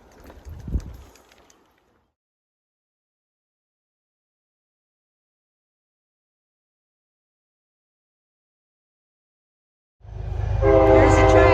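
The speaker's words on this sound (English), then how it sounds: "There's the train." A train on a line near an Appalachian Trail stop in New York rolls in loud and close after a long silence, its sustained tonal horn-like blare building over a low rumble.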